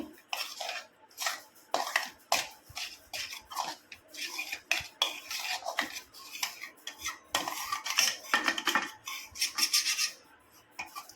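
A metal spoon mixes rajgira (amaranth) flour for sukhadi in a pan, with continuous rhythmic scraping strokes against the metal, close and fairly quiet, with no speech.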